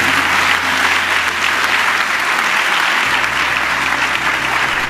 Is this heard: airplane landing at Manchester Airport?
no